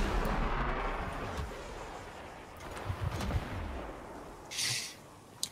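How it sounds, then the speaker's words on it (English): Explosions going off like fireworks in the video game Warframe, a dense rumbling barrage of booms with scattered sharper blasts and a hissing burst near the end, fairly distant and continuous. "Just everywhere you look, there's booms."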